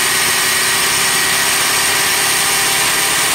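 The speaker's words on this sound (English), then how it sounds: "You just barely touch the throttle and it just wants to run away on you." A 2000 Lincoln LS engine hanging at a high idle after a throttle blip, a steady, loud, continuous hum and whir that holds without dropping back, with no talking.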